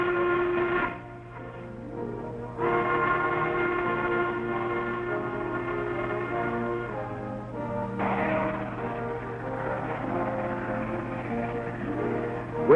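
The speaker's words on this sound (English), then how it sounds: "trains rush toward the sea with their cargoes of black diamonds" Freight trains hauling coal rush along the railroad with a steady, rumbling roll and tonal whistle-like blasts, loud and continuous throughout with no talk.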